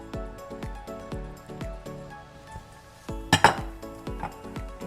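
Cheddar cheese being stirred into broccoli soup in a pot, with repeated clinks and scrapes of a utensil against the pot and a louder cluster of clatter near the end.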